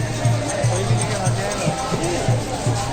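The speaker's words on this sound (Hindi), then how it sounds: "ये देखिए भीड़।" Dense crowd hubbub at the Mahakumbh pilgrimage at Triveni Sangam, a continuous wash of many voices and footsteps close around, with a steady low rhythmic thud beneath the babble.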